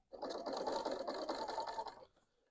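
A Bernina L890 overlocker stitches a rolled hem on a napkin in one quick, close burst of rapid, buzzing stitching that lasts about two seconds before stopping.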